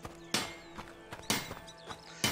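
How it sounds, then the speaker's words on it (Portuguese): A horse in the video game A Plague Tale: Innocence, its hooves giving sharp, spaced clip-clop strikes in an uneven rhythm, near and fairly clear over a quiet background with faint tonal hum. "Cavalo."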